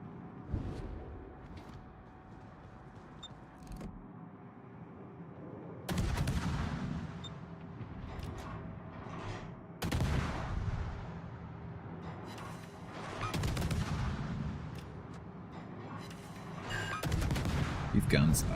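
Heavy naval gunfire from warship guns in World of Warships, with several loud booming salvos spaced a few seconds apart over a steady rumbling battle ambience.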